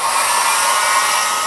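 A hair dryer runs at maximum power, a loud, steady, unbroken whoosh of blown air and motor whine throughout.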